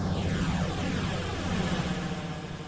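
Trains pulling into a station in the Roblox game, a steady droning engine hum with a descending whine as they slow, moderately loud and continuous, no talking.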